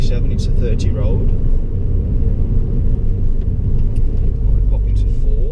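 A car driving along a 30 mph road during a driving lesson, with a steady loud engine and road rumble inside the cabin as it shifts into fourth gear, someone speaking over it.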